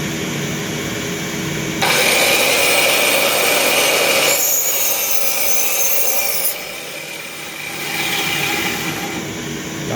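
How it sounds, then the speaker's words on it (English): A power saw, with a vacuum running, cuts fretboard slots in a wooden board: a loud, harsh, sustained grinding whine that swells and eases as the blade passes through. "we're going to saw through this board."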